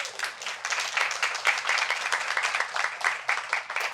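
Dense clapping from a small audience at a women's panel discussion in a shop, steady and close, running the whole time with no voices.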